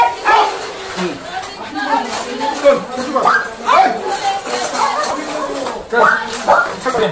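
Rescued pet dogs whimpering and giving short yips up close inside a house, mixed in with people talking over them.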